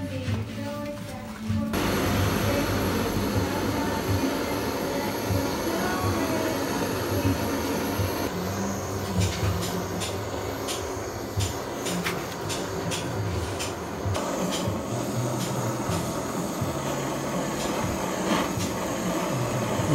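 A torch flame scorches the edges of a Honda Click 125i scooter panel, kicking in with a sudden roar and holding a steady, loud, close hiss throughout.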